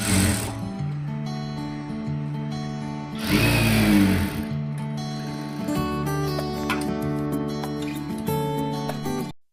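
A sewing machine stitches a blouse with a steady mechanical whirr, running in continuous bursts with a brief louder stretch and then stopping, close and alone.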